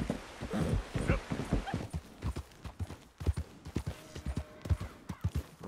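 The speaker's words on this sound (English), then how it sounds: "this stupid horse is fucking up once again" Horse hooves clip-clop steadily in Red Dead Redemption 2, a close rhythmic series of hoof beats on the ground over several seconds with a faint snort mixed in.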